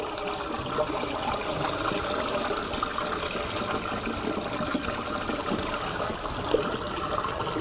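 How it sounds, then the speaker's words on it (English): Steady rushing and trickling water drains from a fish pond through a removed outlet pipe, running continuously without pause, a dense splashing flow heard up close with no voices. "So first thing, you have to drain out the water."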